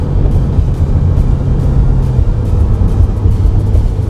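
A 2015 Subaru WRX with a Cobb Accessport tune accelerates, its engine a loud, dense rumble heard from inside the car, steady throughout with road and wind noise.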